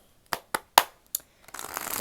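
Tarot cards being shuffled by hand, a few sharp riffling snaps spaced apart, then a denser, steadier run of card flutter toward the end, close and fairly quiet.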